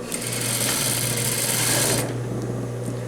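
A sewing machine stitches the zipper tab of a pleated skirt with a yoke, running in a steady close whir for about two seconds, then stopping and leaving a low hum.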